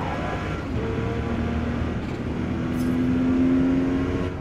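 A Porsche 911 engine in the video game Forza Motorsport holds a steady, loud drone that climbs slightly in pitch as it revs, with no talking over it.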